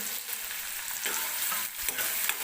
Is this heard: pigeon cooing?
no